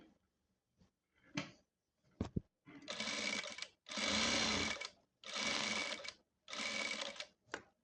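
A sewing machine stitches the lining of a churidhar in four loud, steady bursts of about a second each, preceded by short clicks and handling noises, with no talking.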